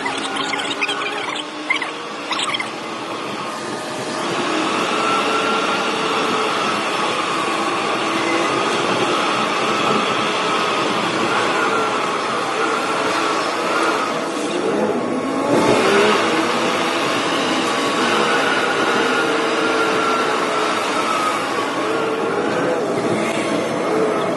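A hotel bus driving through a tunnel toward Masjid al-Haram, a loud continuous engine and road roar echoing in the enclosed space, with a brief squeal and some clatter near the start.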